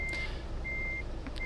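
A truck in Euro Truck Simulator 2 sounds steady, loud reversing beeps while backing up a trailer, with a low engine drone underneath.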